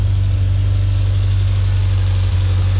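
A Mitsubishi Evo X engine idles steadily after a spark plug change, a loud, even low hum with a constant rumble and no talking over it.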